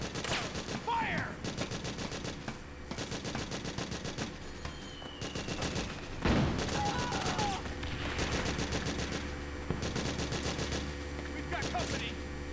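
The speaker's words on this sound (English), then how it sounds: "Suppressing fire!" Machine gun suppressing fire in Metal Gear Solid 4 on PS3: continuous loud rapid automatic bursts throughout, layered with battlefield noise and occasional shouted voices underneath.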